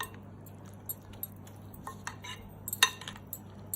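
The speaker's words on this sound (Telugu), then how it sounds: "తర్వాత దీన్ని కొంచెం స్పూన్తో మంచిగా కలిపేసుకొని" A spoon mixes oats omelette ingredients in a bowl, producing light, irregular clinks and taps of metal against the dish, quiet and close.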